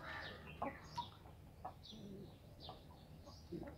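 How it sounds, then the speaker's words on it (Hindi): Ayam Cemani chickens cluck and call softly at a breeder's coop, with scattered short clucks and bird calls over a faint background. "ये मुर्गे हैं,"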